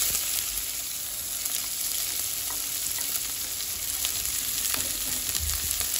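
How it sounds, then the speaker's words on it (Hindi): Chopped onion with cumin and garlic sizzles steadily in hot oil in a pan for a Pahadi lingad sabji, a continuous close frying hiss with occasional stirring scrapes. "अब हम इस प्याज को तब तक भूनेंगे जब तक कि ब्राउन नहीं होता है"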